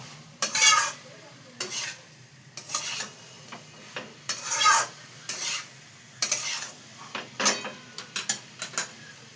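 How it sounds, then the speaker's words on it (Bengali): Chana dal and young jackfruit stir-fried with spices and a little sugar in a pan, heard as irregular bursts of scraping and stirring over a soft, steady sizzle, close and with no talking. "দিয়ে ভালো করে এটাকে আমি কষিয়ে নেব।"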